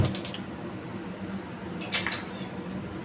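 Moong dal being stirred in a frying pan on a gas stove, with metal spoon scrapes and clinks against the pan at the start and again near the end over a low steady sizzle; no talking.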